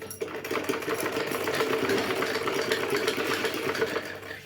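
A sewing machine runs a back seam through old cloth being made into warm slippers, giving a steady, even mechanical whir for about four seconds before easing off, with no voices.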